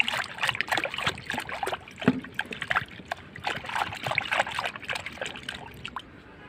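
Shampoo being stirred by hand into a basin of water for a foot soak, close repeated sloshing and splashing with uneven rhythm.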